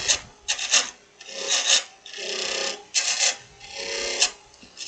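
A spindle gouge cuts a small wooden snowman spinning on a lathe, giving bursts of rough, rasping scrapes that rise and fall in quick strokes, close and moderately loud with no talking.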